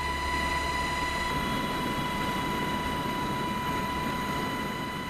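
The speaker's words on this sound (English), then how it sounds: "Helicopters transport gear and personnel to the anticipated endpoint, where the torpedo is expected to run out of fuel." Helicopters ferrying gear and personnel to a torpedo recovery site on frozen waters give a steady, droning mechanical roar with a constant tonal whine, continuous and moderately loud throughout.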